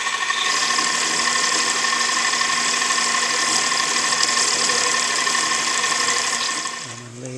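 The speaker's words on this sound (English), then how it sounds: "I'm cutting aluminum." A metal lathe cuts aluminum, holding a steady, loud mechanical whine with a constant hum that tapers off at the end, with no talking over it.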